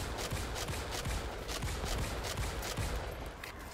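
Dense, continuous gunfire from a bug-fighting shooter, Starship Troopers: Extermination, a steady rattling fusillade filling the whole stretch at close, loud level with no talking.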